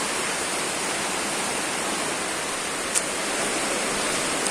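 Heavy wind-driven rain in a Kerala storm, heard as a steady, dense hiss of pouring rain that fills the whole stretch, with one faint tick partway through.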